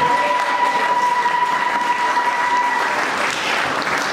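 Congregation applauding during a church sermon, a dense steady wash of clapping hands that fills the whole stretch, with a faint sustained tone fading out partway through.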